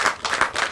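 A few quick, loud claps from a small crowd at an apartment groundbreaking ceremony in Hyattsville, a brief rhythmic burst of under a second.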